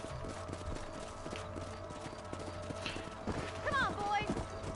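Horse hooves clip-clopping at a steady walking rhythm in the video game Red Dead Redemption, fairly quiet and continuous, with a brief whinny-like sound near the end.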